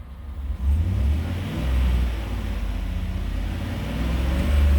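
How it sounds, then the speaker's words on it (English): A 2013 Chevrolet Tahoe LT V8 with 158,000 miles idles and is given a light rev, producing a steady, fairly loud low rumble that swells slightly and stays smooth throughout. "Let's give it a little rev so you can hear it."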